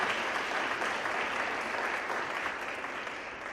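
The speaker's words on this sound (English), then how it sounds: "Please give them a round of applause." Sustained clapping from an audience, a dense, even wash of many hands that fades gently toward the end.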